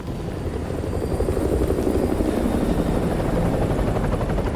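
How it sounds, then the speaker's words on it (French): An enemy helicopter in the 2009 video game Modern Warfare 2 beats and whirs steadily, a loud, continuous rotor drone with no voices over it. "Un hélico ennemi patrouille dans le périmètre."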